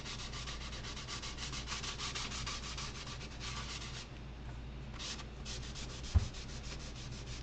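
A damp baby wipe spreads thinned paint across a wooden campsite sign with quiet, repeated swishing rubs, a brief pause, then more strokes and a small knock of a wobbling table, with no voices.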